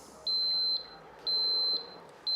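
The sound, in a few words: OLAS Guardian boat safety tag beeping when switched on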